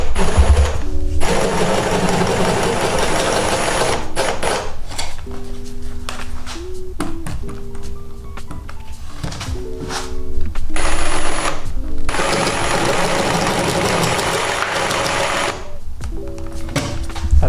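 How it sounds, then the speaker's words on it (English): Jigsaw cutting plywood, its blade buzzing in steady runs broken by pauses and the knock of handling the board, loud and close, with no talk. "I'm just going to use a jigsaw to do that."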